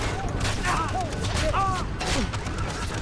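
Gunfire in a Far Cry 3 firefight, rapid shots and booms under a steady loud din, with a voice shouting over the action.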